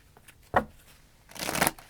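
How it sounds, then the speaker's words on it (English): Quick riffle of tarot cards being shuffled close up, one short snap near the start and a longer rustling shuffle toward the end, with no talking. "These cards are so difficult to shuffle."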